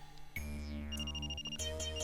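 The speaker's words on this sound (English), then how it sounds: "Just as I finished getting ready, my phone rang." A synthetic phone ringtone from the visual novel Onigokko! plays in bright, tonal electronic notes, clear and alone, with a descending sweep and repeated beeps.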